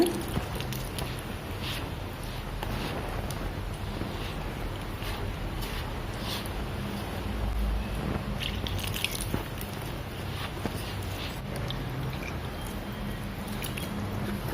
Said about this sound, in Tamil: இப்போ லைட்டாக தண்ணியை தெளித்து பிசைங்க.